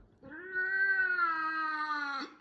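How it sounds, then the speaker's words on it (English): A house cat gives one long, drawn-out meow, close and clear, rising slightly then holding before cutting off, with nothing else heard around it. "that's our cat."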